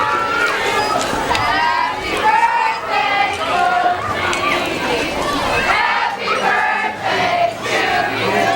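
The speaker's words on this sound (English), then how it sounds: "Singing happy birthday to somebody." A crowd at a Wisconsin high school football game, Stanley-Boyd at Neillsville Granton, sings happy birthday together. Many voices blend into a loud, continuous wavering chorus with crowd noise around it.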